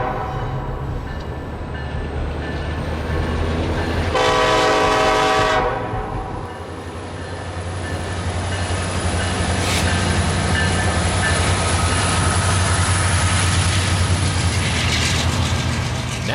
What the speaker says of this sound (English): I caught the NS empty coal train on the entrance portal.